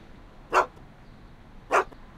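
Einstein, the dog in a Back to the Future video game, gives two short sharp barks about a second apart, clear and close against a quiet background.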